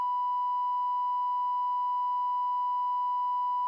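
A steady, loud, pure electronic censor tone masks a spoken phone number, holding one unbroken pitch for nearly four seconds before cutting off abruptly.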